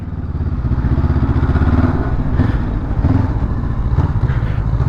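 A 2022 Honda CB500F twin-cylinder motorcycle is being ridden, its engine giving a steady, loud, close droning rumble with slight surges throughout and no voices.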